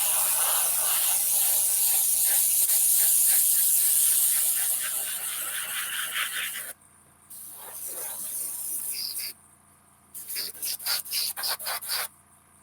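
Spray paint hissing from a can onto a miniature model in a tabletop painting session, one long continuous burst followed by several shorter, choppy bursts with brief pauses between them.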